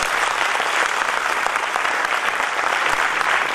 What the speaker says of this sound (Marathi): त्यामुळे आता जरा जोरात टाळ्या वाजवून दाखवा तुमच्यामध्ये उत्साह किती आहे सगळ्यात.